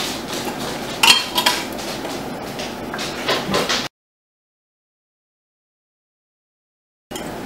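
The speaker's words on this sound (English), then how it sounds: "we will put our lids on" Metal canning lids set onto glass jars of mustard pickles, a few light metallic clinks and taps against a faint background, followed by silence.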